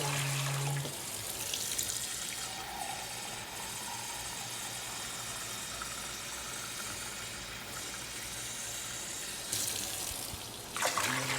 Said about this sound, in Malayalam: ഇനി അരിക്ക് വെള്ളം വെക്കാം.